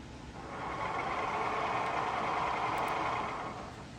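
A Formax 7200 DS200 folder inserter's motor drives steadily, a loud, even mechanical whir that swells in after half a second, holds for about three seconds, then fades.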